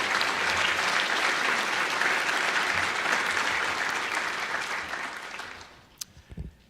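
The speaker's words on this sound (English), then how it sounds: "let's give everyone here who presented a round of applause" An audience at a senior award ceremony gives a round of applause for the presenters, with loud, dense clapping that holds for about five seconds before fading out to a few scattered claps and small knocks.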